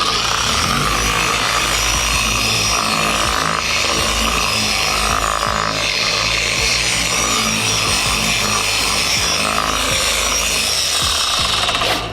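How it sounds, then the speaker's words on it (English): A car polishing machine runs at its slowest speed, spreading polish across car paint during a show-car paint restoration; a steady, close whirring and rubbing drone holds evenly throughout with no talk. "I'm going to set the speed to the slowest on the machine and spread."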